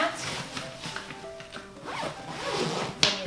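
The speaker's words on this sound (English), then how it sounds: "And you zip that closed" A Joovy Room playard organizer being zipped closed, several quick rasping zipper pulls close up, with a sharp click at the end and a faint background hum.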